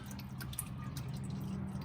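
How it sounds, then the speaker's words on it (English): Transmission fluid drips from the underside of a Jeep Wrangler JK in faint, scattered taps over a low, steady background hum. "So just give it a moment for it to drip out and we'll clean it up."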